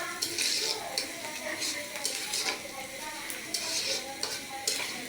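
Bay leaves and cardamom are stirred in hot oil in a pan for a chicken curry, with a soft sizzle beneath repeated scraping strokes of a spoon against the pan at a steady rhythm.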